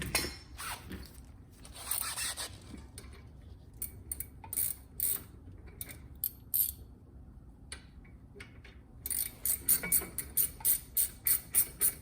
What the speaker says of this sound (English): tighten these both up, 1 and 2